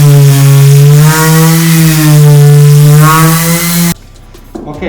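Orbital floor polishing machine running on a scratched hardwood floor, a loud steady motor drone with strong harmonic hum for about four seconds, then cutting off abruptly into near quiet with faint handling noise.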